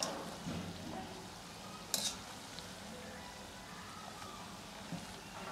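Dahi vada frying in oil in a kadhai gives a steady, faint sizzle with a brief sharper crackle partway through, heard alone with no talking.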